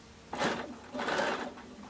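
A sewing machine stitches a felt pumpkin in two short, quiet bursts of whirring, each lasting about half a second, with a soft pause between them.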